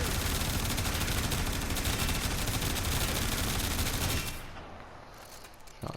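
Rapid sustained automatic gunfire from the Boltor Prime in the video game Warframe, a dense loud burst lasting about four seconds before cutting off, followed by a faint quiet tail.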